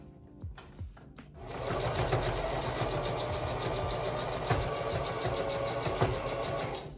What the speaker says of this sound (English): I'm going to switch my machine to a straight stitch, fold over the elastic, and I'm going to top stitch around the whole thing.